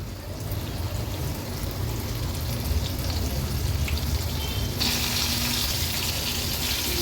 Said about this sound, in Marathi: ही तांदळाच्या पिठात व्यवस्थित घोळून घेतलेली मांदेली आपण तेलावर सोडणार आहोत